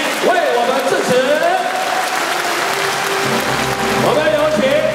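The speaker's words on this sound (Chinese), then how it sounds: "全体的一贯道道亲热烈掌声" A big crowd of Yiguandao members claps warmly in Taipei Arena, sustained full applause throughout, with an announcer's amplified voice running on top.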